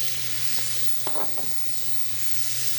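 Oysters sizzle in butter in a frying pan, a steady close crackling hiss with a few brief clinks and stirring sounds, no speech.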